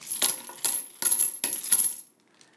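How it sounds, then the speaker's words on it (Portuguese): Metal board game coins tossed down in several quick clattering bursts, four or five close jangling drops with ringing metallic tones, then silence at the end. "Agora, você pega essas moedas aqui, ó. Você joga fora, tá bom?"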